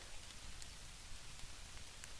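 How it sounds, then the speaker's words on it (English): Hard rain pouring down at a bushcraft survival camp beside a lean-to shelter, a steady dense hiss with no pauses, with a few faint drops standing out close by. "Can you hear that rain?"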